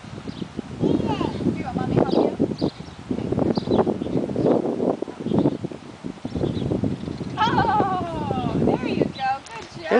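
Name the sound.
goats bleating on a farm while being fed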